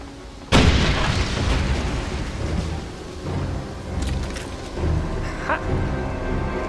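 A locked door blown apart with explosives in Wolfenstein: a sudden loud blast bursts in, followed by rumbling debris, gunfire pops and scattered combat noise.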